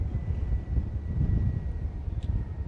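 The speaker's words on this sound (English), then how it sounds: "really, really windy." Strong wind buffeting the microphone on a fast Sydney Harbour ferry, a steady loud rumbling roar with a faint engine hum beneath and no voices.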